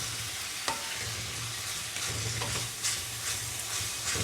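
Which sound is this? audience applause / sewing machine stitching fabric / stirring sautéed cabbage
stirring sautéed cabbage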